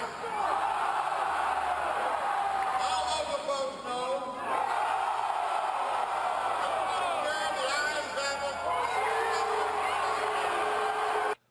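A crowd of delegates at a convention calls out a vote aloud, captured on a cell phone from inside the crowd, with a sustained roar of overlapping shouting voices that swells and holds throughout.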